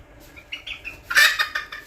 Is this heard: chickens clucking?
yes